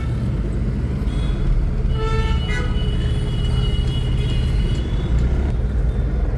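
Road traffic in Dwarka during a jam caused by roadworks, a dense, loud, steady rumble of engines with several car horns tooting in the middle.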